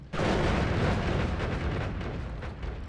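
In the video game Noita, a chain bolt spell blasts and destroys its surroundings, producing a sudden heavy explosive roar that starts abruptly and stays loud, slowly fading over a few seconds.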